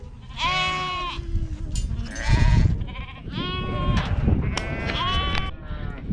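Several sheep bleat repeatedly and overlap, loud and close, over a background of shuffling and clattering movement as they are sent down a drafting race in a farm sheep yard.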